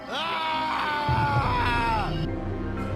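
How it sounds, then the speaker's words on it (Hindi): Loud, drawn-out scream sound effect in a spooky forest story, a shrill wavering cry that rises and bends for about two seconds over a low rumbling background. "अचानक एक जोरदार चीख सुनाई दी।"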